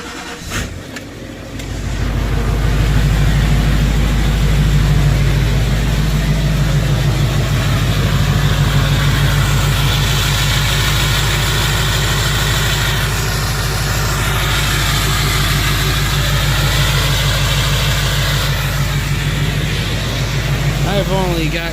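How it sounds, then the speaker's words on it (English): A Chevy Duramax LBZ diesel pickup fitted with a new MBRP turbo-back exhaust starts up and settles into a loud, steady diesel idle with deep rumble, running close by for about twenty seconds as a person talks over it. "The first startup of our brand new MBRP exhaust"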